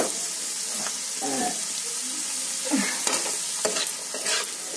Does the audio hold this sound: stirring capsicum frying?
yes